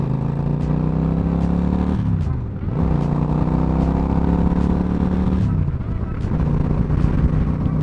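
A motorcycle rides along the road with a close, steady engine drone that dips briefly twice as the revs drop and then pick back up.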